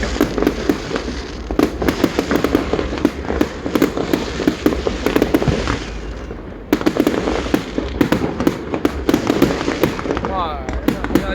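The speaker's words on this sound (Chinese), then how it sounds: "哇，漂亮，很小的烟火，对不对？" Small fireworks burst over Longtan Lake during a 2024 show, with rapid crackling pops and bangs in dense volleys, a brief lull midway, and people exclaiming and talking close by.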